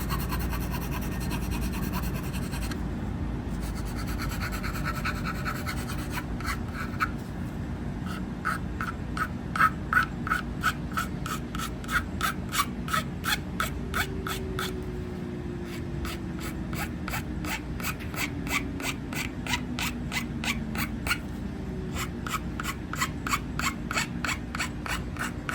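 Fast, rough rasping of a file scraping leftover plastic off the edge of an SBA3 mini brace, with a steady scratchy stroke rhythm that becomes distinctly pulsed in the second half, close up and unaccompanied.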